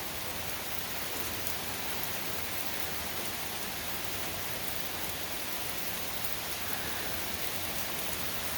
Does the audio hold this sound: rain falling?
yes